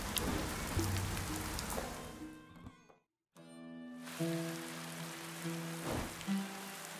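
Rain in the video game Dead In Vinland, a soft steady patter with faint tonal game ambience, briefly cutting out midway before resuming quietly.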